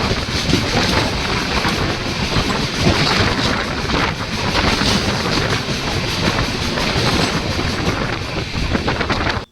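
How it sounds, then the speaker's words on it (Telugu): The Nanded–Tirupati special express rolls into Tirupati station with a loud, continuous rumble of wheels and carriages, roaring and wind-buffeted from start to finish. "సో మొత్తానికి ఆన్ టైంకి వచ్చేసి మనం తిరుపతి రైల్వే స్టేషన్కి అయితే ఎంటర్ అయిపోయాము"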